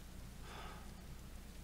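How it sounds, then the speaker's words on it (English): Steady rain falls in the Death Stranding video game, a soft continuous hiss with a low rumbling bed underneath, even in level throughout and with no voices. "So clearly the rain does damage."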